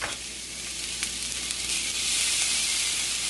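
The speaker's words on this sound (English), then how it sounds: "You need a nice sear on the steak." Steak searing in a hot cast iron pan for surf and turf, giving a loud, steady sizzle with a bright hiss that swells slightly toward the end, with no voices.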